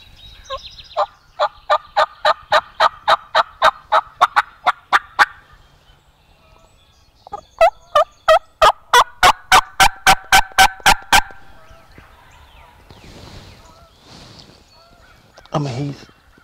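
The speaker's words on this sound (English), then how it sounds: "These birds are gobbling up this little feeder creek up here in the head of it" Wild turkeys gobble near a small feeder creek on Iowa public land in two long runs of rapid, rattling calls, moderately close, with quieter calls trailing off afterward.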